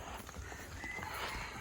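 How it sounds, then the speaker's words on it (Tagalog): Horse hooves clip-clopping on a road past cracked cement, a steady pattern of soft hoof strikes under a dense wash of outdoor noise. "doon mo na padaanin ng kabayo"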